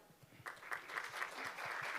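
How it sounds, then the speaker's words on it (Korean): An audience applauding at a Jeju environmental forum session, a soft, distant patter of clapping that swells after a moment and continues steadily, no one speaking over it. "큰 박수 부탁드립니다"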